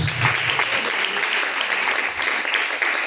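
Worshippers clap in praise of God during a Pentecostal church service, steady close clapping that runs without pause, with a low voice briefly audible at the start.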